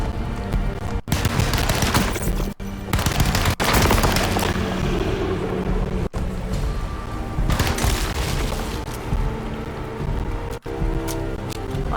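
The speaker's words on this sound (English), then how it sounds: "I think machine gun's gonna be better" Sustained automatic gunfire from a machine gun in the 2024 video game Alone in the Dark, loud and dense, running in long continuous bursts with booming impacts and only a few brief pauses.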